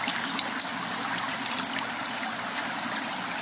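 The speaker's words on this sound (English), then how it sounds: "That water feels so good, Audrey." Creek water flows and trickles steadily, a soft continuous rushing hiss with occasional small splashes and gurgles, moderately close and with no one talking.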